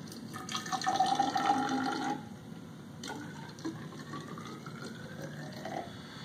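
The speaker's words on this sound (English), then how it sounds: "We're going to just pour a little bit in the tube." Mead poured from a sample into a narrow hydrometer tube, a close liquid stream with a rising filling tone for about two seconds, followed by quieter drips and a faint second trickle.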